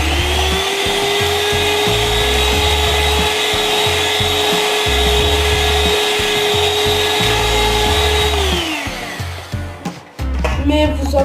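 An electric mixer whirs steadily while beating apple cake batter, a loud constant motor hum lasting about eight seconds before it winds down and stops, followed by brief clatter.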